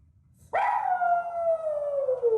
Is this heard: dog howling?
yes